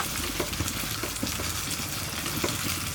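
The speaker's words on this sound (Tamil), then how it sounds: "இதையுமே கொஞ்சம் இந்த எண்ணெயில் போட்டு ஒரு வதக்கிட்டு போட்டுக்கலாம்" Tomato sautéing in hot oil in a pan for pumpkin mor kuzhambu gives a steady close sizzle and crackle, with occasional soft scrapes of a spoon stirring through it.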